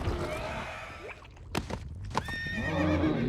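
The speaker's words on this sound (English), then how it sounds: "One little horse. I don't need that horse." A horse neighs loudly in the animated film Teenage Mutant Ninja Turtles: Mutant Mayhem, a long wavering whinny with hoof clip-clops and thuds mixed in, close and clear.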